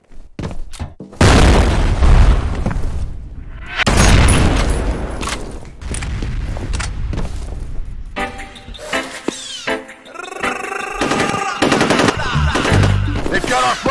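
Grenade blasts and heavy gunfire in the shooter F.E.A.R. during a capture-the-flag combat match, loud broadband booms and rapid bursts filling most of the stretch, with sharper ringing weapon sounds near the end.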